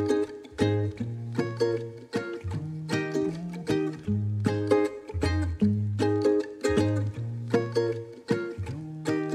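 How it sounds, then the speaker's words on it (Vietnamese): Bright plucked ukulele playing a lively strummed and picked melody with bass-like low notes, steady rhythm of repeated chords, close and clear with no voices. "Đàn ukulele."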